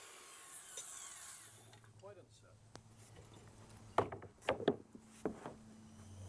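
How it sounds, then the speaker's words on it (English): A handsaw cuts a deck board along a speed square used as a guide, giving several sharp, close rasping strokes in the second half after quieter handling noises, with some talk. "To make a straight cut without a miter saw, I use my speed square as a saw guide."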